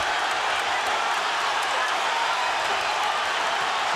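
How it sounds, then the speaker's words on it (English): A packed boxing arena crowd roars through the tense final round of Pacquiao versus Marquez, a loud, steady wash of cheering that never lets up. "Listen to the crowd, folks."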